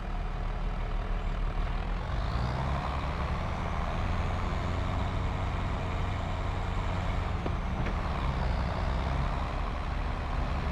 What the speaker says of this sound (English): So I need to take the class tractor and take it